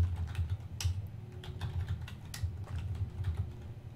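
Typing on a computer keyboard while writing game code, a steady run of light, close key clicks with irregular rhythm and a few sharper strokes, no talking.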